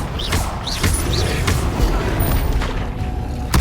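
The Incendio fire spell is cast in the game Hogwarts Legacy on Xbox Series X, giving a loud, dense whoosh and rumble with a few rising chirps near the start and sharp cracks throughout.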